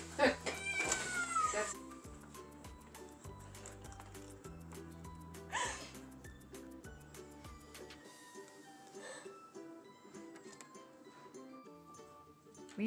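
Young black and white kittens cry and yowl at a closed door, several thin meows and caterwauls rising over steady background music, fairly faint and indoors.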